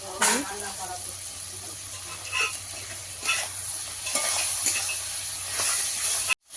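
A steady hiss of frying fills the pan as salt and turmeric are added to prawns for a taro leaf dish cooked over a wood fire, with occasional stirring scrapes and a short break near the end.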